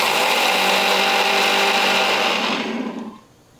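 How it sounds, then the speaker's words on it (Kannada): A mixer grinder whirs loudly and continuously as a jar grinds a cup of sugar into fine powder, then winds down near the end. "ಇದು ನುಣ್ಣಗೆ ರುಬ್ಕೋತೀನಿ ರೀ."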